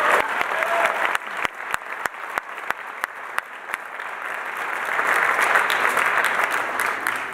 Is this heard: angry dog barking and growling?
no